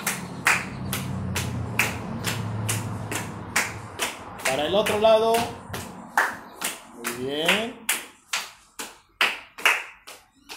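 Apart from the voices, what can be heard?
children clapping hands while marching around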